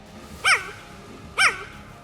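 Two sharp barks from a cheetah, spaced about a second apart, each a short loud bark standing alone over a quiet background.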